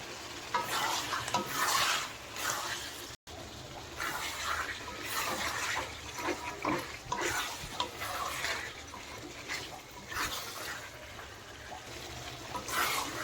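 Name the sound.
chicken being sautéed and stirred with spices in a pan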